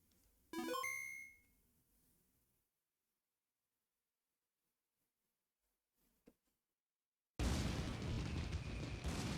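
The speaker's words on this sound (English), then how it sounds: "Ooh, fireworks." Fireworks from the Pokemon Black 2 video game: a bright crackling burst with tonal sparkles near the start that fades out, followed by near silence, a tiny pop, then a dense loud wash of noise.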